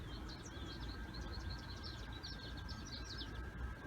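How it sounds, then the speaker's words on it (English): Several small birds chirp in quick, busy bursts, their calls faint and somewhat distant over a low outdoor rumble. "I need to start paying attention when these birds start acting up"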